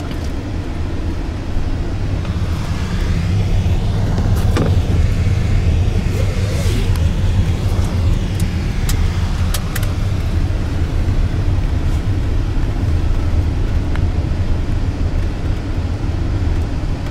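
Steady, loud road rumble from inside a Mercedes-Benz SUV cruising in Phu Quoc, Vietnam, with a continuous low drone and a few faint clicks and rattles over it.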